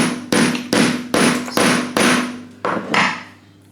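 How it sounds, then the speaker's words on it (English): Seven sharp, loud hammer blows ring out at a steady, close pace as a metal part is hammered onto a small electric motor. Each strike has a bright metallic clang that fades quickly, with no talking between them. "I'm gonna hit the metal part"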